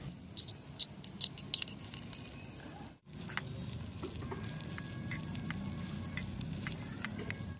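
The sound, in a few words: chopped tomatoes frying in pan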